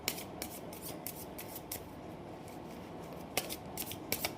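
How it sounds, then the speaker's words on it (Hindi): Tarot cards are shuffled close up in a quiet room, with soft papery rustling and several sharp, brisk riffle bursts, the loudest near the end. "जब तक मैं कार्ड शफल कर रही हूँ"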